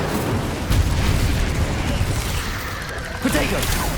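Incendio fire spell in the Hogwarts Legacy video game: a rushing, roaring burst of flame with low rumbling swells, loud and close, blending into ongoing combat noise.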